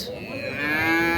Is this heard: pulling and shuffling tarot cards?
no